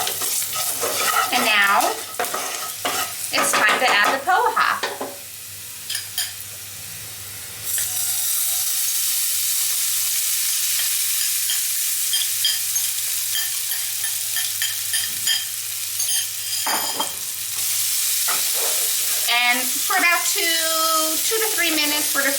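Poha is stirred with turmeric in a hot pan: a spoon scrapes and rustles against the metal over a soft sizzle, in bursts with quieter pauses between.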